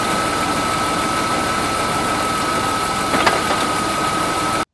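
A BMW E46 engine with a suspected faulty dual-mass flywheel idles steadily up close, a constant mechanical drone carrying a faint clacking and a brief louder rattle near the end.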